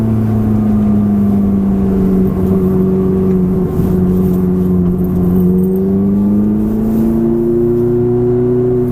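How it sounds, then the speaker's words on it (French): A Ferrari F430 engine revs hard under heavy acceleration, a loud, steady mechanical roar whose pitch climbs and dips over nine seconds, close and continuous with no talking. "Allez, une petite phase d'accélération. Accélérez fort."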